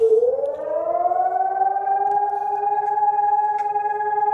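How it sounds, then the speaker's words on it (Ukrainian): An air raid siren wails over Kharkiv, rising in pitch at the start and then holding a loud, steady, sustained tone throughout. "а воно вже повітряна тривога"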